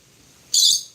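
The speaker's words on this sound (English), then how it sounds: "Here's one of our local doves coming in to eat the seed." A local dove arriving at a seed feeder, heard as one short, loud, bright burst of fluttering wing or call sound lasting about half a second after a quiet outdoor background.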